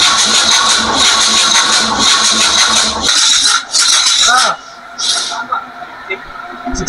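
A small 6170Z series marine ship engine cranks loudly during a compression test. The steady churn cuts off after about three seconds, and brief hisses and mechanical clicks follow. Someone talks over it.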